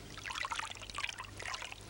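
Whitewash and water sloshing and trickling in a large wash tub as the mixture is stirred with a big wooden spoon, a steady, close liquid swirl with small splashes and no talk.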